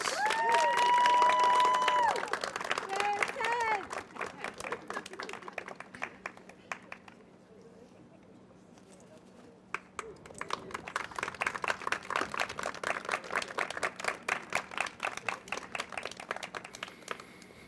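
Audience applause at a county flag unveiling ceremony, a dense wash of clapping that fills the room, dips into a quieter stretch midway, then swells again into steady, sustained clapping.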